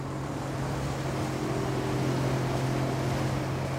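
Steady engine drone of a boat crossing a choppy sea in a rising southwest wind, with broadband wash of following waves and wind, constant and fairly loud throughout, no voices.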